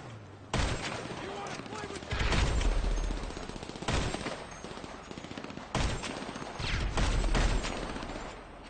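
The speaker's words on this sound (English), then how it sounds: "I'm shooting people that are trying to shoot you guys" Bursts of video-game gunfire from GTA V, loud and repeated in several clusters, with rapid automatic fire between heavier blasts, while players talk over it.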